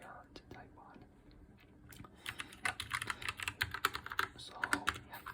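Fingers type on an Flsports F12 hot-swap mechanical keyboard fitted with Polia switches, sparse clacks speeding into dense rapid clicking, close and crisp, with soft whispering in the background.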